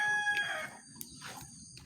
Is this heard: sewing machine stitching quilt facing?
no